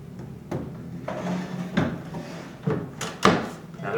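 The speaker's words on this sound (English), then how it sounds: "I'm then going to put the second drawer box in." Wooden drawer box being slid into cabinet drawer slides, with several separate knocks, scrapes and thuds spread over a few seconds, close and moderately loud.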